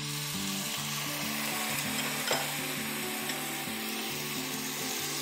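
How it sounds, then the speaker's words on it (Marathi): Seeded, finely chopped tomatoes and onions sautéing in a pan while being stirred, a loud steady sizzle under a repeating low humming drone, with no one talking. "हे पण आता ह्याच्यात थोडंसं परतून घ्यायचं आहे."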